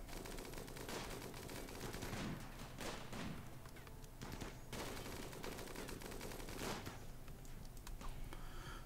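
Gunfire in the RimWorld colony game, rapid clattering shots in dense bursts throughout, fairly faint and continuous with no talk.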